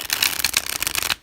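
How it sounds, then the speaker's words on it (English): A deck of vintage tarot cards is riffle-shuffled up close, a dense rapid flutter of card edges that ends abruptly, with no talking. "oh yeah, really nice shuffle on these."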